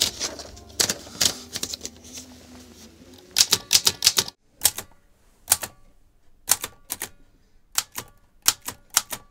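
A mechanical typewriter being typed on up close, loud sharp key strikes coming in irregular bursts and clusters with short pauses between them, a faint hum underneath early on.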